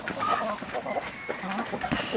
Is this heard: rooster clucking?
yes